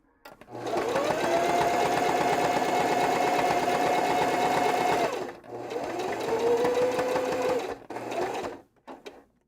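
A sewing machine stitches a puppet in a workshop, whirring steadily in a long close run, briefly stopping, then running again more slowly for a shorter burst before a few soft handling sounds.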